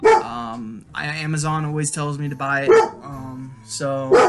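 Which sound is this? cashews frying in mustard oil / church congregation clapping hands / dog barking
dog barking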